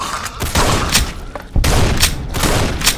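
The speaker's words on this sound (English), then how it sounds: "Okay, we're switching to a shotgun now." Shotgun blasts in the game Fallout New Vegas, with a rapid series of sharp booming shots in close succession, loud and near, with no one talking.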